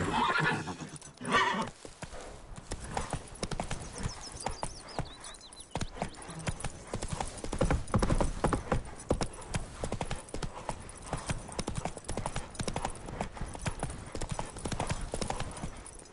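The horse Roach gallops in The Witcher 3: Wild Hunt, with steady rhythmic hoofbeats throughout and a loud neigh near the start, alongside faint game ambience.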